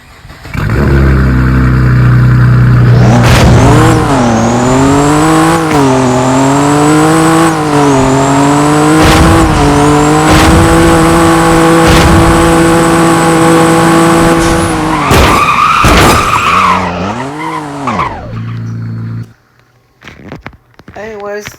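Engine of a Cadillac CT4-V Blackwing in the video game Driving Empire, revving up and holding a loud, steady high-pitched drone before shifting and dropping away, then a brief pause and a short restart near the end.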